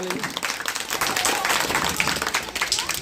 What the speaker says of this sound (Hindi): एक बार दिल खोल करके तालियां बजाएं।